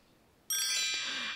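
A doorbell rings in a Playmobil toy film: a single bright, ringing electronic chime that starts abruptly after a quiet moment and holds its tone, close and clear, with no talking.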